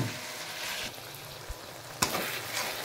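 Chicken spice paste of salt, turmeric and yogurt frying in hot oil over a high flame, giving a steady, close sizzle with a couple of sharp pops and stirring scrapes.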